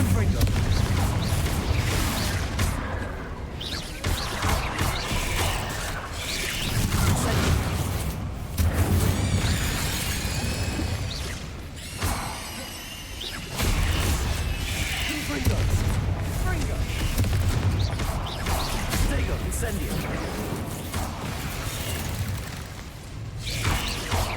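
Confringo blasting spell explosions in the Hogwarts Legacy video game: repeated booming bursts and crashing impacts over a dense battle din, with voices speaking through much of it.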